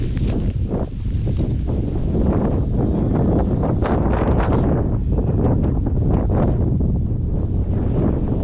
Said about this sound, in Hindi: अब यहाँ पे काफ़ी ठंडी हवा चल रही है।